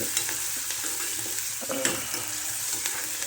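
Chopped onions frying in a pan for a moth bean dal curry, a steady soft sizzle with occasional stirring scrapes, close and moderately quiet.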